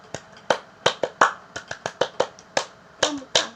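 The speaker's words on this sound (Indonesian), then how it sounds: "kakak akan menutup dengan tepuk pramuka" Indonesian scout clapping chant, tepuk pramuka: a rhythmic pattern of sharp, close hand claps in quick groups with short gaps, crisp and alone with no voices over it.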